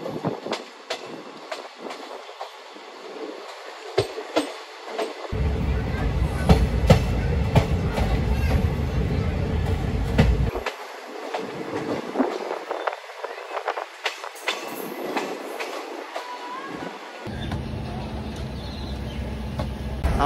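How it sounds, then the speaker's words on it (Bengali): The Haldibari Superfast Express rolls into Bolpur station, heard from on board as a continuous rumble with clattering wheels and bursts of louder rolling noise over about twenty seconds. "বোলপুর স্টেশনে অ্যারাইভ করছে আমাদের ট্রেন।"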